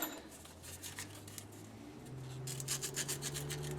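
Coarse sandpaper scrubs corroded car battery terminals on a stored Mustang, making a steady close scraping. Rhythmic rasping strokes speed up and grow louder in the second half.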